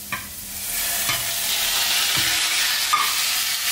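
Meat sizzles and fries in sofrito in a pan, a continuous bright crackling hiss with occasional soft stirring knocks, close and alone.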